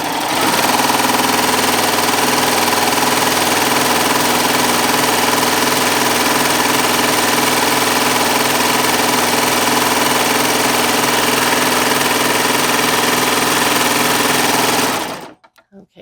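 A Baby Lock Triumph serger runs continuously while sewing a rolled hem, a fast, steady mechanical whir at close range, holding even for about fifteen seconds before stopping abruptly.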